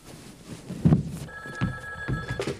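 An old telephone rings at home, its electronic bell sounding in a short sustained burst over room noise and scattered bumps, close and fairly loud.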